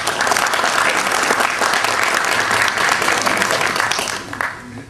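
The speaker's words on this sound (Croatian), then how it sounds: "pozdravimo ih jednim aplauzom" An audience at a literary gathering for guest poets applauds, dense and sustained clapping from a crowd filling the room, tapering off slightly at the very end.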